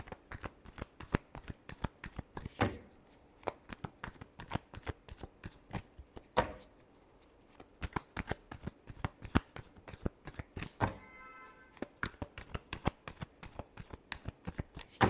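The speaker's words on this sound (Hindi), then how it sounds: "last shuffle" Tarot cards are shuffled by hand in a dense run of crisp riffles and slaps that continues for about fifteen seconds, close and quiet, with no voice.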